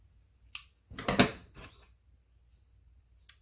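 Scissors snip the yarn end of a crochet piece: a sharp click, then a brief crunchy cut and a faint closing snap, close up in a quiet room.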